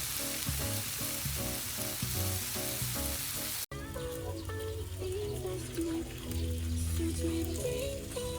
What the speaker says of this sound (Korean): 반미 만들려고 고기는 굽고 있어요